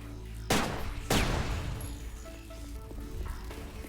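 Two sharp gunshot bursts from objects being shot in the Dreamcast game Headhunter, each followed by a decaying crash, then quieter game ambience with small tonal beeps.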